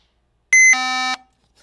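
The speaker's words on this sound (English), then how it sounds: "I'm so sorry about that beeping." A laptop under repair beeps during a fan test: one sharp high-pitched electronic beep that jumps to a lower, buzzier tone and stops after about half a second, loud and close against silence.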